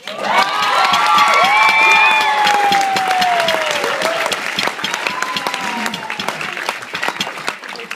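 Sustained applause from a wedding reception crowd during a best man speech, with some cheering and whoops over the clapping, steady and loud throughout.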